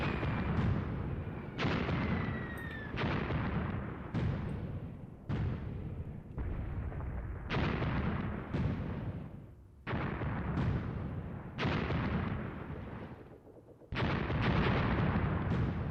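Artillery fire in the World War II tactics game Graviteam Tactics: Mius Front, a regular series of about a dozen loud heavy booms, each decaying into a rumbling tail, repeating roughly every second or so.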